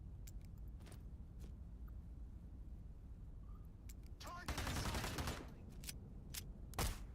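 Gunfire in the video game Into the Radius 2: a few sharp shots and a brief burst of rapid firing in the middle, over a quiet low background with someone speaking intermittently.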